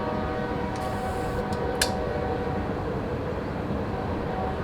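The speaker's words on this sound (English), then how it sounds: "You're gonna have to yell louder with that train." Steady low rumble of a train passing close by, continuous and loud throughout, with a brief higher squeal partway through and no talking.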